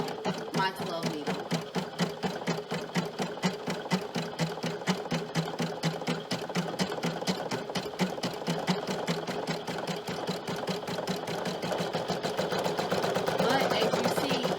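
A single-needle home embroidery machine stitches a design onto a baby bib, running in a steady, fast rhythmic chatter of needle strokes, close and continuous throughout with no speech over it.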